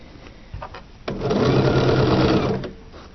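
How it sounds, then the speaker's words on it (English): A sewing machine stitches fabric fed in corner first, its motor starting after a few faint knocks and running at a fast, steady hum for about a second and a half before stopping, loud and close. "I'm going to send it into the sewing machine with that top corner up there, and I'm going to walk it into the machine"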